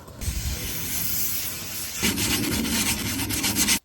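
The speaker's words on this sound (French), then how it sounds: "pour nettoyer ça j'y vais au décapour" Degreaser sprayed from an aerosol can onto a Jaguar gearbox, a steady close hiss that starts abruptly, runs for several seconds and carries on with a louder, rougher texture in the second half, with no voices.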